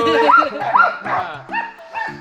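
Sled dogs at a summer dog sled camp in Juneau, including energetic sprint hounds, let out a close, loud run of excited yips, whimpers and high barks in rapid bursts, with no one speaking over them.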